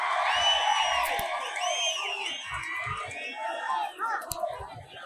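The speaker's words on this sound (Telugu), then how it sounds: "గట్టిగా చప్పట్లు కొట్టి హర్షాన్ని ఆమోదాన్ని తెలియజేయాలి" A large crowd at a political rally for former Andhra Pradesh Chief Minister Chandrababu Naidu cheers and whoops loudly, with overlapping yells rising and falling continuously throughout.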